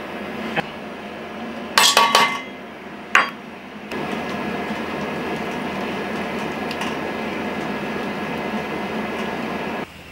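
Melted chocolate and butter scraped and poured from a pot into a cold dish beside a pellet barbecue, with sharp metallic clinks and knocks early on, then a steady hum of background noise.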